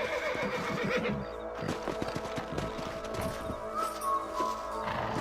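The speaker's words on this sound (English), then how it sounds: "Let's get back on the horses and see what else is going on." A horse whinnies loudly over steady clip-clopping hooves and a dense background of game sounds and music in Red Dead Redemption, with no talk.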